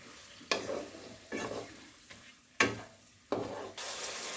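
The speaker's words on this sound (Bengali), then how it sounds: "এবার আমি এর মধ্যে দিয়ে দেব মাংসটা। ভালো করে আমি মিশিয়ে নেব।" Chicken pieces stirred into ginger-garlic paste in a pan for chicken pulao, several distinct scraping spoon strokes with frying sizzle between them, close and clear with no talking.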